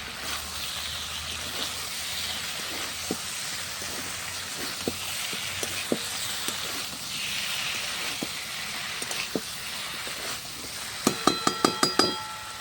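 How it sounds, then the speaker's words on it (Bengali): Prawns, okra and potato sautéing in a pan over a clay earthen stove, a low steady sizzle with scattered clicks of stirring and a quick burst of metallic clinks near the end. "ঢাকা দিয়ে দিয়ে ভালো করে চিংড়ি মাছের সাথে সমস্ত মশলা ভেন্ডি কষিয়ে নেবো।"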